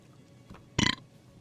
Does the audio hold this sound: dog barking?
no